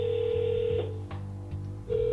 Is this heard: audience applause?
no